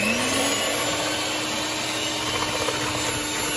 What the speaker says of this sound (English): I'm gonna turn my mixer on the lowest setting